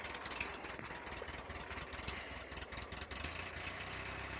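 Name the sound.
Toyota 2.2L diesel engine idling while warming up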